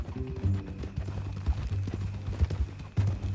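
Horse hooves clip-clopping in the video game Red Dead Redemption 2, a run of close, distinct hoofbeats in an uneven walking rhythm over low tonal background.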